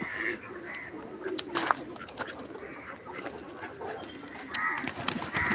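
Pigeons cooing nearby in soft, repeated low calls, mixed with scattered clicks, flutters and rustling.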